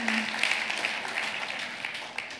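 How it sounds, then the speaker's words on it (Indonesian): A church congregation claps steadily during a sermon, producing a continuous wash of applause that holds at an even level throughout with no clear pauses. "Berikan tepuk tangan buat Tuhan Yesus"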